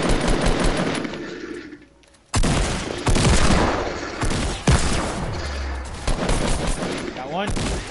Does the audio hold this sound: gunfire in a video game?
yes